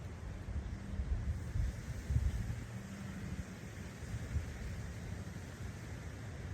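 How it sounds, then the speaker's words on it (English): Steady wind buffeting a microphone outdoors in Florida, a low rumbling roar with gusty bursts throughout and no talking. "Beautiful windy day here in Florida."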